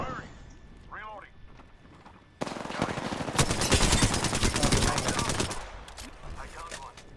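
Gunfire in Apex Legends erupts abruptly as a dense run of rapid automatic shots, loud and sustained for about three seconds before tapering, with voices talking before and around it.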